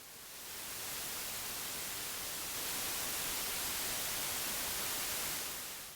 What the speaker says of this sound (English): Yep, that's white noise.